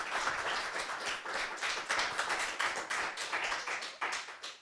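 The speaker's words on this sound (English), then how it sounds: "Give yourselves a round of applause" Audience applause from a live evening crowd gathered in person, steady dense clapping sustained throughout at moderate level with no talk over it.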